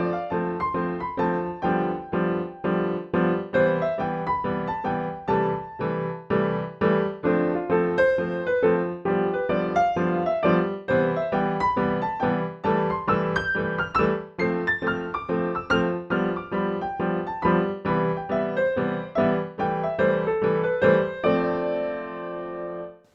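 A solo piano improvises, with a right-hand melody over repeated broken chords. Notes are struck at a steady pace for over twenty seconds, loud and close, with no talking.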